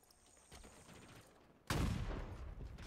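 Gunfire in Halo Infinite multiplayer: quieter game sounds give way to a loud, sustained burst of shots that carries on to the end.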